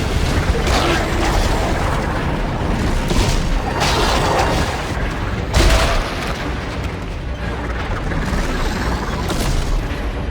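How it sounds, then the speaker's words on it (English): A slow-firing upgraded shotgun booms in the sci-fi horror game Dead Space 3, with several heavy blasts spaced apart over a constant rumbling background. "The other problem with the shotgun is it has a very low rate of fire"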